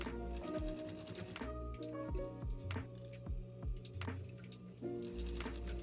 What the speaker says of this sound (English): Then sew along the top edge to join the pieces together.